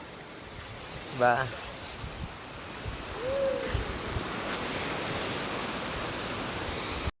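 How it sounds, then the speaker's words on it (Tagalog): Waves wash steadily onto a sandy beach shore in Bataan on an early morning, a soft continuous surf rush that swells midway, with a brief voice and a short whistle-like call over it. "Pakinggan nyo ang hampas ng alon sa Dalampasigan ngayong umaga guys"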